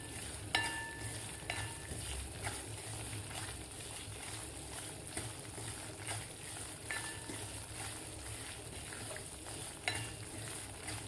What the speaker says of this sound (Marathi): आता आपल्याला एकदम लो गॅसवर हे रवा 6 ते 7 मिनिट भाजायचा आहे.